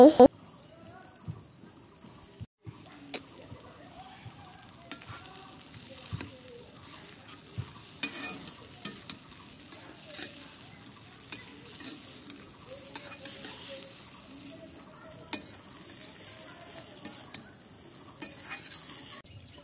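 Boiled potatoes frying in a wok, a soft continuous sizzle with scattered light clicks and scrapes of stirring, close but faint, with occasional quiet voices.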